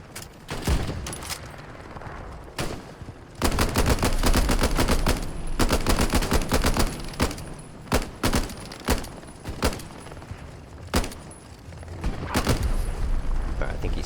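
Gunshots in Hell Let Loose at El Alamein, dense and repeated, with rapid automatic bursts and single cracks at various distances across a battlefield, and talk beneath them.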